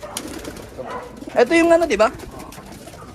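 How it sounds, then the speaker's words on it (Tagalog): Pet pigeons coo in a short loud burst just before release, brief throaty calls heard alongside people chatting in Filipino. "Gusto nang lumipad yung mga ibon mo ah."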